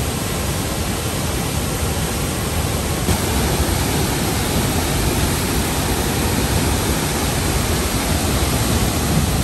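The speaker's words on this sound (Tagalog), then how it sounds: "Tingnan niyo yung falls." A waterfall in South Cebu, heard as a dense, continuous roar of falling water, loud and close, with no breaks or other sounds over it.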